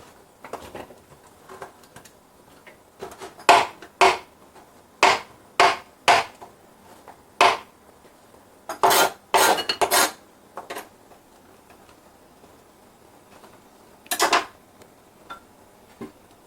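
Chopped carrots drop and clatter into a bowl in a series of sharp, close knocks, some single and some in quick clusters, separated by quiet gaps.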